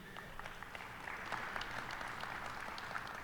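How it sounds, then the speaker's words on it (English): Steady applause from a town hall audience, a continuous wash of clapping that holds at an even level throughout without any voices. "Applause for them, please."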